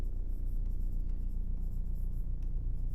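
Chalk or marker writing on a board during a maths proof, soft scratchy strokes over a steady low room hum, with no talking.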